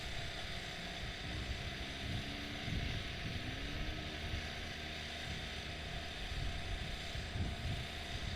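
Honda Talon side-by-side engines race around a dirt track at a Texas Outlaw Series event, a steady distant drone with wind noise that swells and fades as the machines pass.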